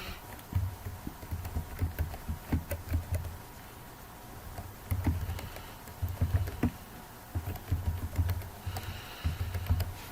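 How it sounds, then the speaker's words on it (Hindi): An email address being typed on a computer keyboard, with close, light key clicks arriving in short bursts separated by brief pauses, no talking over them. "यहाँ पे आपने अपनी ईमेल टाइप करनी है।"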